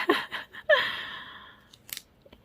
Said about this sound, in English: That's how I'm going to use my standard cutting mat that is not sticky to cut my fabric.